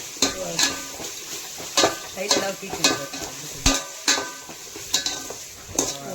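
Ginger and garlic frying in oil in a home kitchen, with a continuous sizzle broken by repeated scraping stirs of a spatula against the pan, close and fairly loud.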